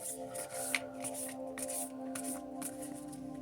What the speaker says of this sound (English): I've already shuffled it pretty much, but just gonna go through it a few times here